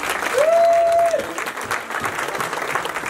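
Audience at a community religious gathering claps warmly to thank breakfast sponsors, a loud burst of applause fading out under a sustained tone, with voices murmuring.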